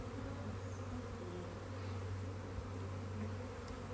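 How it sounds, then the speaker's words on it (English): A honey bee swarm hums steadily at a top bar hive, a dense continuous buzz of many insects at close range with no voices over it. "That's all the bees out of there."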